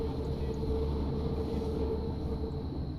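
Hamburg U-Bahn subway train running on lines U1 and U3 in a train simulator video game, a steady close rumble with a sustained electric motor whine and no breaks, no voices over it.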